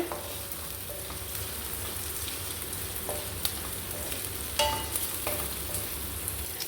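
Cut green chillies fry in a hot pan for paneer chilli, giving a steady close sizzle with a few sharp crackles and stirring clicks, and no talking.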